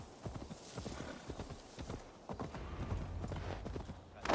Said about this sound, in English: Why can't the horse just go full speed in towns?